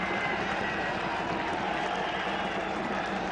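Cricket stadium crowd applauding a batsman reaching fifty in a 2007 India vs South Africa ODI, a steady broad wash of clapping and crowd noise, continuous and fairly loud throughout.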